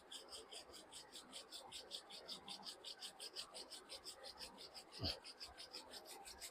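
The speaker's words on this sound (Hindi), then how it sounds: "Slowly rub your palms." Palms being rubbed together at the close of a yoga session: a soft, rapid, rhythmic swishing of skin on skin, steady and faint, with a brief low thump partway through.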